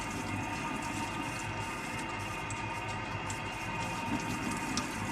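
Water pours steadily into a microgreens tray of coir growing medium indoors, making a continuous even rush and trickle with no pauses and no voices.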